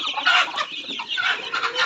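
A group of native chicken chicks chirps and clucks softly close by, with busy overlapping peeps and no talking.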